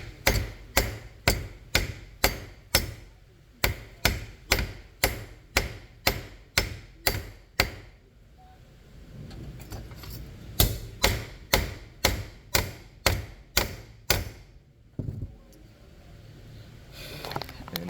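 A mallet strikes a machete blade during a repair, with no wooden block between them. The blows fall close in two runs of regular, sharp, ringing hits with a short pause between the runs.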